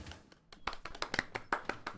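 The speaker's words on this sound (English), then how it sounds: "A round of applause, everybody!" A handful of people clap at a gaming event, sparse, uneven hand claps close to the mic, quiet and irregular rather than a full ovation.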